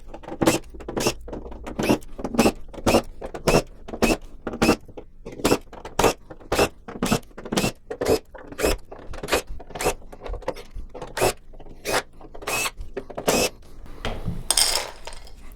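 Screws come out of the plastic back plate of a Sony XBR-75X850C television with a long series of sharp, evenly spaced clicks, close and crisp. A rougher scraping rattle sounds near the end.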